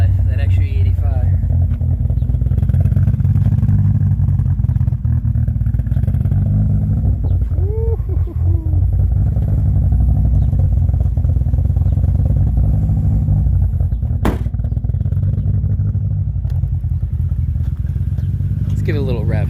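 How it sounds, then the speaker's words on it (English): A Saturn Ion Redline running on E85 with a repaired exhaust: a loud, steady, deep exhaust rumble held close throughout, with a brief voice faintly over it. "Let's give it a little rev."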